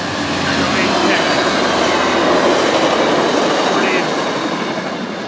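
VIA Rail train 72 led by an EMD F40-2 locomotive passing near Bronte GO station, a loud steady roar of rolling cars with faint rail clicks throughout.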